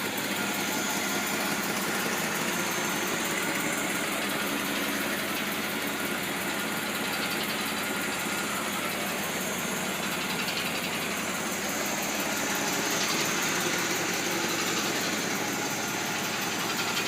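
A vehicle engine idles smoothly and steadily close by for the whole stretch, a continuous even hum with slight vibration and no voices.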